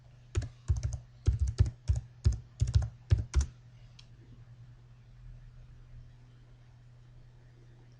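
Quick bursts of close keystrokes on a computer keyboard while logging into a WordPress backend, several clustered taps over about three seconds followed by quiet room hum.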